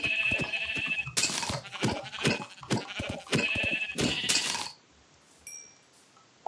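Sheep in Minecraft let out several quick, wavering bleats in a row, loud and close, then the scene falls almost silent.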